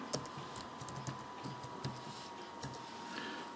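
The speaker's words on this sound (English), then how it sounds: "Guess I'm typing too fast." Fingers tap rapidly on a computer keyboard, a quiet, close run of uneven clicks and keystrokes with no talk over it.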